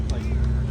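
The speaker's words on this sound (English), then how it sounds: "He has a stock exhaust, but nonetheless, it sounds super good" A Porsche GT4 with its stock exhaust drives past at a cars and coffee meet, a loud steady engine drone with a rising and falling whine, with voices over it.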